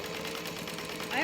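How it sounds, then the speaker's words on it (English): Sewing machine running a top stitch along a bag seam, a steady close mechanical whir throughout with a voice talking over it. "we're going to stitch through that top stitch"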